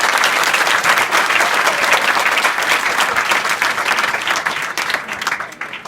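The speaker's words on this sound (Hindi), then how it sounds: "तो फिर एक जोरदार ताली मारो अपने लिए।" Loud, sustained clapping from a school assembly of students fills the room for several seconds, dense and steady before thinning slightly toward the end.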